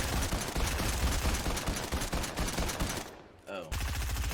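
Rapid automatic gunfire in the video game Fortnite rattles loudly in a near-continuous burst, briefly cut off and then resuming.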